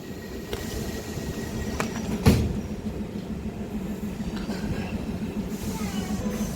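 A DEMU local train rumbles steadily while halted at and then pulling out of a station platform, a continuous low drone with one sharp clank partway through, heard from on board.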